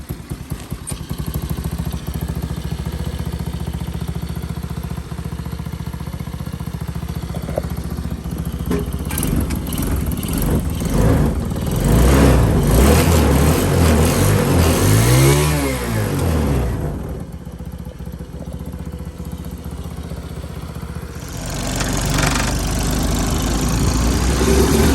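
A 125cc go-kart engine running after repair, a continuous close, loud buzzing drone that rises in pitch with revving in the middle, then settles back to a steady idle.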